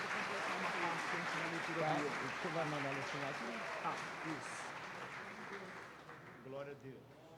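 A church congregation claps beneath talking voices during a service, the clapping steady at first and then fading as the speech continues.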